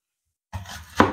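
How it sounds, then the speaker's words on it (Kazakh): Knife chopping onion and potato on a board: silence, then a few soft cuts and one sharper chop, close and alone. "Алдымен пияз бен картопты турап аламыз."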